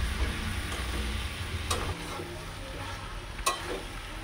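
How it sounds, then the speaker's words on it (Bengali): Poppy seed and green chili paste sautéing in a pan, a soft continuous sizzle with a couple of sharp spatula taps against the pan. "দিয়েছিলাম পোস্ত আর কাঁচা লঙ্কা বাটা, ওটা কষে এসছে"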